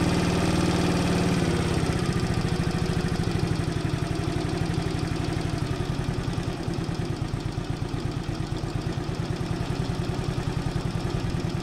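A Cerro C70-7 70cc motorcycle engine idles steadily up close during carburetor tuning, its rapid putter holding an even rhythm throughout with no talking.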